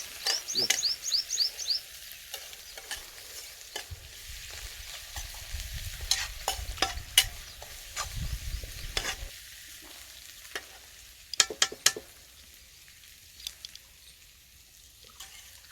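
Amaranth greens fry in a pan while a spoon stirs them, giving a steady soft sizzle with repeated scraping strokes and a few sharp clinks against the metal.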